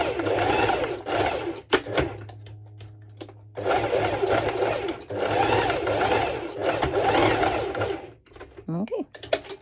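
A sewing machine straight-stitching a bikini strap runs in several short bursts with pauses between them, close and fairly loud, with a voice speaking in the gaps.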